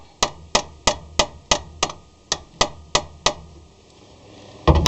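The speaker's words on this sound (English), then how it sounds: "I'm just kind of tapping on it gently, a little bit at a time." Light metallic taps on an alternator part from an Astro van, about eleven evenly spaced sharp knocks over three seconds, close and clear in a quiet garage, followed by a pause and a clunk.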